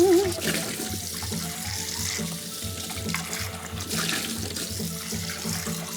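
Hot water runs from a kitchen tap in a steady, loud rush of splashing that fills the whole stretch without a break.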